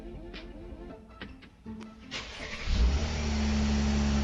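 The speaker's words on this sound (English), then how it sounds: "I can unlock the door and also start the car with the key inside the microwave" A car engine cranks and starts after the door is unlocked with the key fob shut inside a microwave, settling into a steady, loud idle that continues to the end after some quieter clicks and handling noises.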